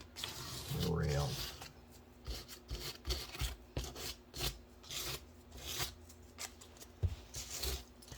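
A model railroad rail being deliberately scratched for cleaning gives a series of short, rough rasping strokes in an irregular rhythm. They sound close and fairly quiet, with a brief louder rumble near the start.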